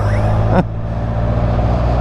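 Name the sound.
truck passing by on the road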